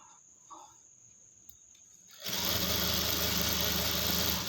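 An electric sewing machine stitches a net cloth hip belt, starting abruptly after a quiet moment and running loud and continuous at close range with a fast, even whirring buzz.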